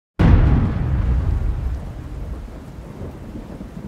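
A thunderstorm sound effect: a sudden loud thunder crack that rolls into a long, steady rumble over continuous rain, with no voices.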